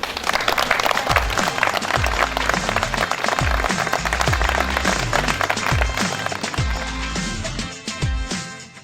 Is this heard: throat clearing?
no